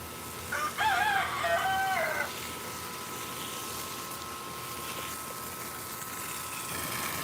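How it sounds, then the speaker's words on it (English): A rooster crows once outdoors in a rare fruit garden, a single mid-distance cock-a-doodle-doo lasting about a second and a half, followed by a steady background hum. "Bird."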